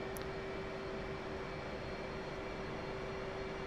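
Jet aircraft engine at low throttle taxiing on a supercarrier deck in the DCS flight simulator, a steady, dense broadband roar with a constant whine, unbroken throughout.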